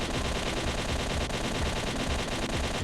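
Rapid automatic AK-74 fire in a video game pours into a vehicle, a dense, continuous rattle of shots lasting a few seconds with no talk over it.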